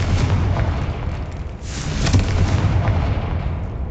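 A Confringo blasting spell in Hogwarts Legacy, heard as loud, rumbling explosive bursts layered over continuous game noise, with a heavier blast about halfway through.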